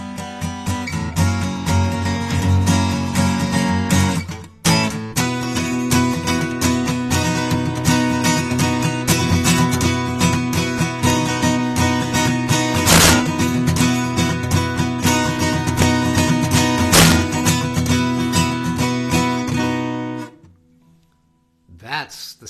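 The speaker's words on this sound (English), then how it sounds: "That's the sound of a Gibson guitar" A 1990 Gibson J-200 acoustic guitar is strummed hard and loud with a compressed, punchy, focused tone, dense ringing chords running continuously before a sudden stop and brief quiet.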